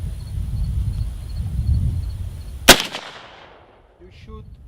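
A single loud, sharp gunshot from a Chiappa firearm at an outdoor range cracks out after a stretch of low background noise, with a quick echo trailing off and brief faint sounds afterward.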